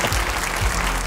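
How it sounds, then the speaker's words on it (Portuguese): Studio audience applause on a Portuguese television call-in programme, a steady, dense burst of clapping filling the whole moment without talk. "Uma salva de palmas, já!"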